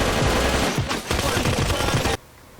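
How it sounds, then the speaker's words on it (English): Rapid automatic gunfire in a cartoon store shootout, loud and dense bursts of shots overlapping for about two seconds before cutting off abruptly to quiet. "Shooting up the whole store."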